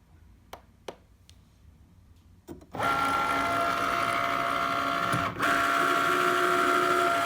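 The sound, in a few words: cutting machine cutting material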